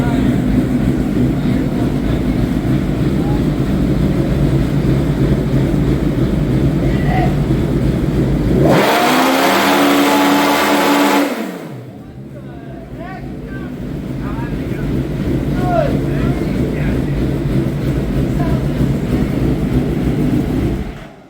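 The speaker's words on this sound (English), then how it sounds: "It sounds so weird because there's two engines." A twin-engine mini truck, tuned for nitrous, runs its two engines in a loud, droning roar that suddenly drops away midway and then builds back up to full volume, with people talking faintly under it.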